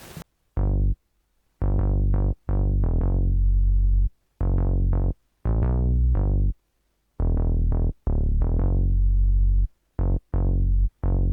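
A melodic hip hop loop with chopped, stop-start phrases over a deep bouncing bassline, playing alone with short silent gaps between bursts.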